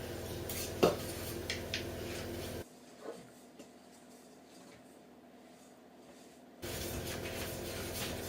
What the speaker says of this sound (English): and a nice lot of icing sugar, and mix it in